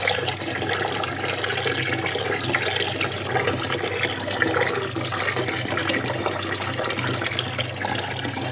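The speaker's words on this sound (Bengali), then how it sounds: "চালটা ধুয়ে নিচ্ছি, এবার ভাতটা বসিয়ে দেবো।" Rice being washed under running water, a steady loud rush of water filling and splashing continuously without pause.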